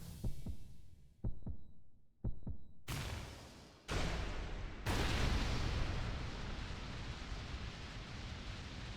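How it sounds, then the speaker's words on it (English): A heartbeat thuds in Hollow Knight, first as sparse low pulses separated by silence, then swelling into a loud, dense, continuous throbbing roar. "I hear a heart beating. Louder and louder and louder."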